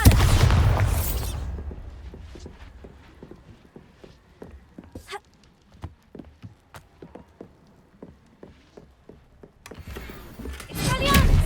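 Spell blasts and combat effects from Hogwarts Legacy: a loud burst opens, followed by a string of sharp percussive hits and impacts, then another swelling blast near the end.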